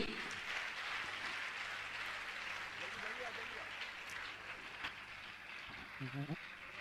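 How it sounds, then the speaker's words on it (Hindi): Applause from an audience at a Jain religious gathering honouring gold donors: a steady broadband patter filling the whole stretch, with a faint voice briefly surfacing near the end. "और आपकी तालियां तो बजना ही चाहिए"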